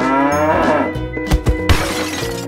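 A cow moos loudly and close in a long, deep, harmonic call, followed by a few abrupt low thumps near the end.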